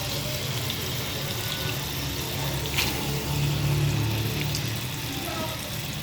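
Soaking water is tipped off a bowl of soaked urad dal in a home kitchen, a steady close splashing pour with a brief louder gush toward the middle.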